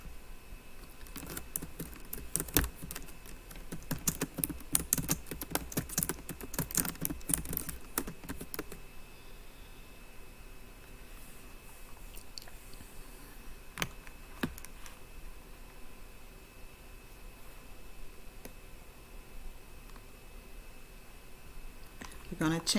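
Rapid bursts of keystrokes on a computer keyboard as text is typed, dense clattering clicks for several seconds, then sparser isolated taps with quiet gaps between them.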